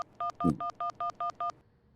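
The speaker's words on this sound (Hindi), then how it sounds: "मैं हप्पू सिंह को फोन करती हूँ" Seven short, evenly spaced telephone keypad tones beep in quick succession as a phone call is dialed, clear and close, with a brief soft rustle near the start.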